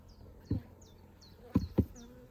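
Honey bees buzz continuously at a Carpathian-queen apiary, a steady near drone with a few louder close passes rising briefly over the hum.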